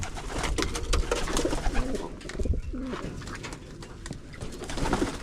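Pigeons coo steadily at a loft during bath time, soft throaty calls repeating and overlapping close by, with wing flutters and splashing mixed in.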